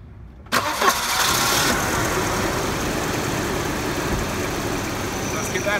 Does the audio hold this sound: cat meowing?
no